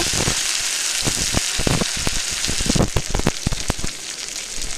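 Green chilli paste frying in a pan for Bihari egg curry, a steady hiss broken by sharp crackles and spatters as it is stirred, close and loud.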